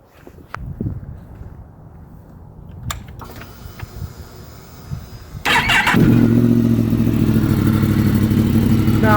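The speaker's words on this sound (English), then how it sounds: "let's fire up the MT-10." A Yamaha MT-10 motorcycle fires up after some mechanical clicks and footsteps, then settles into a loud, steady, close idle that holds to the end.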